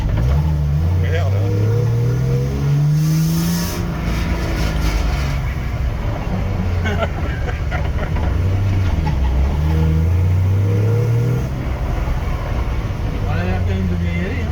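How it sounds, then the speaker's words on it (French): A car engine revs hard in sweeping rising and falling surges, loud and close, with people talking over it throughout. "Un grand coup de gaz là, oui."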